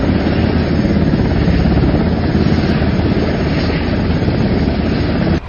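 An Israeli military helicopter carrying wounded soldiers makes a loud, continuous rotor and engine roar that stays constant and close throughout, with dense chopping texture and no other sounds breaking through.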